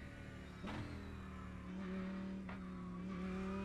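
A race car in a VR racing game at Monza accelerates hard out of the pit lane, its engine note rising through rapid gear changes with sharp revving sweeps and steady mechanical drone throughout.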